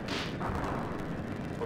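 A torpedo fires in the GameCube game Skies of Arcadia Legends: one short, booming burst with a hissy rush, heard alone.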